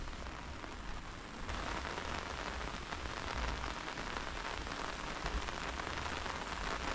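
Rain falls on a lakeside walking trail as a steady, dense patter of drops hitting nearby surfaces, continuous and even with no voices.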